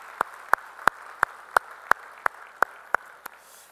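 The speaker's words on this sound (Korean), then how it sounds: "우리 찬양받으신 주님께 영광의 박수 올리겠습니다" Church congregation claps in slow, steady unison, about ten evenly spaced sharp claps, fairly faint and roomy, fading out at the end.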